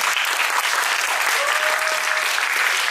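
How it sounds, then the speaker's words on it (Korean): A room full of high school students at a lecture in Korea breaks into loud, dense applause that holds steady throughout, a thick wash of many hands clapping at once. "이렇게 박수 한번 응답을 해볼까요?"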